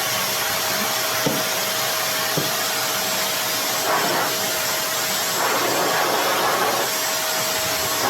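An Ingco VC13301 vacuum cleaner runs in blower mode with a loud, constant broadband whoosh and motor whine, steady throughout with a couple of faint knocks and shifts in airflow.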